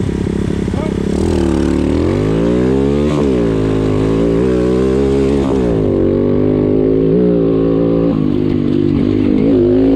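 An X-Pro Storm 150 DLX motorcycle rides through an enduro race, its small engine revving up and down continuously, loud and close, with voices heard over it.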